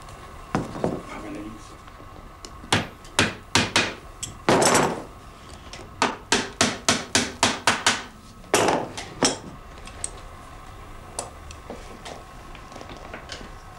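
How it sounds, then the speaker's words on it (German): A saddler hammers nails through leather straps into a horse-collar hame, striking sharp, close, loud blows in quick rhythmic runs separated by short pauses. "dreht der Sattler den Hamen und nagelt beide unten liegende Riemen fest"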